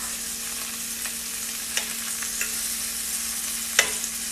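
Large shrimp sizzle steadily in a hot pan, a broad even hiss with a few sharp clicks and scrapes as they are flipped over, heard alone and fairly close.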